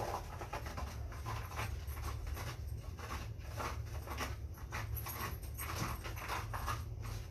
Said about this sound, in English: That noise you hear, if you can hear it, is my dog scratching into the carpet.